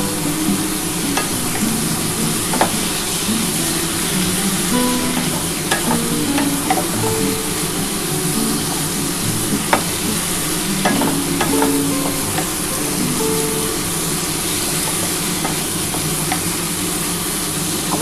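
Yardlong beans and potato stir-fry in a wok with a loud continuous sizzle, punctuated by frequent scraping and knocking stirring strokes, close up and with no voices.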